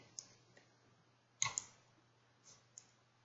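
Computer mouse clicking in a quiet room, a few sharp faint clicks scattered irregularly, including a close double click near the middle.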